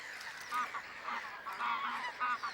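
An adult greylag goose in the Volga delta of the Astrakhan reserve gives a run of repeated nasal honks, fairly close and clear, with short gaps between calls and no voices.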